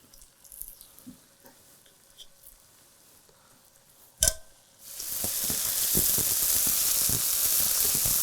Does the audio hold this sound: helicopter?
no